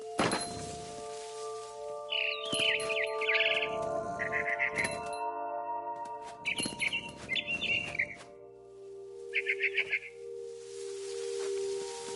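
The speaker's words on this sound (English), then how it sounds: "Then I heard chirping outside my window. It was a barn swallow going back to her nest." Repeated quick chirping bursts from a barn swallow returning to its nest outside a window come in several clusters, clear and fairly close, over a sustained tonal backdrop.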